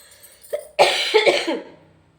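A woman coughs several times in a close, harsh burst, with a short cough first and then a louder cluster that fades out, set in a hospital.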